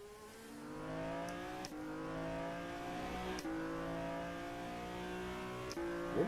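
A Dallara IR18 IndyCar engine in the rFactor2 racing game revs high and climbs through the gears. Its whining tone rises in repeated sweeps with short breaks at each shift and stays loud and close throughout.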